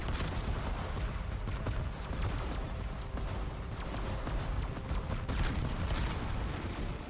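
Rapid, continuous gunfire from Black Ops 7 Zombies, a dense unbroken stream of shots that stays loud and steady throughout, with no talk over it.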